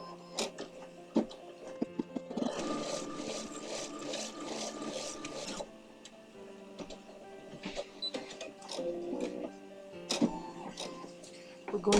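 An embroidery machine runs a placement stitch for batting, a steady mechanical chatter of rapid needle strokes lasting a few seconds, set among scattered handling clicks and taps.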